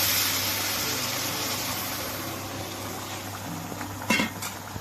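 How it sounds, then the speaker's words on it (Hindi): Boiling water goes into a pan of frying kofta masala, giving a steady low hiss and bubbling with a short sharper burst near the end; fairly quiet, no talking. "दूसरी तरफ जो है वो अब मैं उबलता हुआ पानी जो है वो इसमें डालूंगी।"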